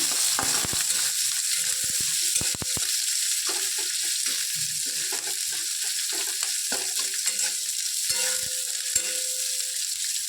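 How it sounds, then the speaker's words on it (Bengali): Chopped onion fries in oil with curry leaves, a constant close hiss of sizzling laid under repeated knocks, scrapes and rattles as a spoon stirs around the pan, with no talking. "পেঁয়াজটা একটু ভাজা ভাজা করে নিচ্ছি"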